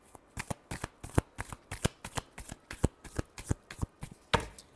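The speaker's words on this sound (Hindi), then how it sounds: "Last shuffle." Tarot cards are riffled and shuffled in rapid, evenly spaced bursts, crisp and close, with a final louder flurry at the end.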